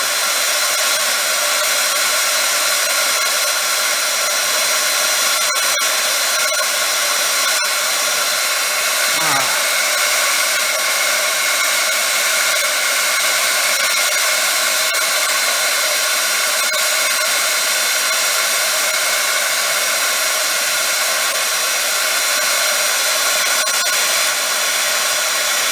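A heat tool blows a steady, loud whirring hiss as it melts Ranger embossing powder. The drone runs unbroken and close for the whole stretch, with no voices.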